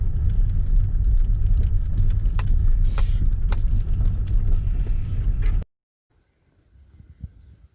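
A car rumbles down a rough mountain road at Mt Major with a loud, steady engine drone and rattling, jangling knocks, then cuts to near silence before faint shuffling noises.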